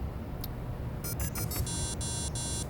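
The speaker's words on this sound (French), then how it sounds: "C'est ton téléphone." A telephone rings in repeated electronic bursts of bright beeping trill, each burst separated by short gaps, loud and close in an indoor domestic scene with no talking over it.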